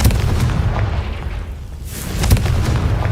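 A booming Confringo explosion spell from the game Hogwarts Legacy bursts out loud and close, with a couple of heavy blasts and rumbling impacts in quick succession.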